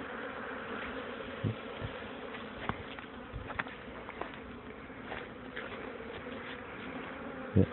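Honeybees at an apiary buzz in a faint, steady drone, with a few soft knocks and ticks scattered through.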